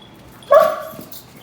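A dog lets out a single sharp yelp, close and loud, after being stepped on during repair work on the cab corners of a 1978 Ford F350 pickup, fading quickly into a quiet background.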